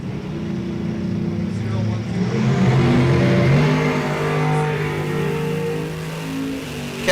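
Drag race cars launch off the line at a Sunoco Race Fuels ET Series event, engines roaring loud and sustained with a rising, wavering drone of hard revving and tire spin, and no talk over it.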